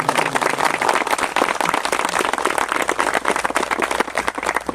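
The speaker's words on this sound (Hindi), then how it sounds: "मैं चाहता हूं कि एक बार जोरदार तालियों के साथ" A crowd applauds steadily, dense clapping from many hands filling the space at a constant loud level with no pauses.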